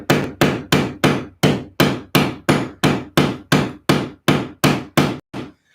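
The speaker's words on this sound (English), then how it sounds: "you're not supposed to swing hammers like this" A hammer drives nails with about a dozen evenly spaced, loud, close strikes, each a sharp crack with a short ringing decay, the last blow weaker.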